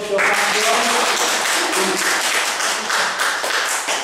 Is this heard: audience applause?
yes